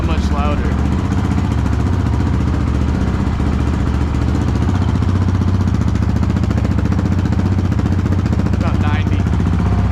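A 2021 Honda CRF450RL fitted with a Yoshimura exhaust and Vortex ECU runs close and loud, a steady droning engine note holding throughout with a voice over it.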